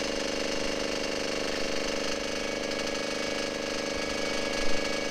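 A small Chinese diesel engine runs steadily in cold weather at about 12 F, giving a continuous, even mechanical drone with a fast regular knocking pulse and no talk, plus a brief bump near the end.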